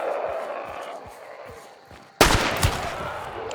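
Dual pistols fire in Hunt: Showdown. Light footstep-like thumps come first, then a sudden loud gunshot, followed by a quick second shot and ringing echo.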